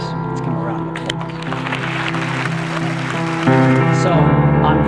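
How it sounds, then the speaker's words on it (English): Audience applauding an Apple executive team at a company event, steady dense clapping that swells louder near the end, with some crowd noise mixed in. "Let's give them a round of applause"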